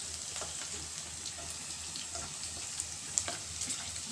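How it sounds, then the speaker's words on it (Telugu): Green chilies roasting in hot oil in a pressure cooker pan while preparing mutton biryani, giving a steady, soft sizzle and crackle with a few brighter pops near the end, no voices over it. "మిర్చి అంతా మంచిగా ఈ నూనెలో రోస్ట్ అయిపోవాలండి."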